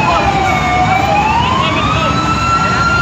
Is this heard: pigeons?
no